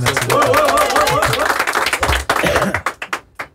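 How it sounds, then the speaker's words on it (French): An audience claps loudly and close by for a rapper. Voices and laughter overlap at first, then the clapping thins into separate, scattered claps that fade out. "t'applaudis très fort"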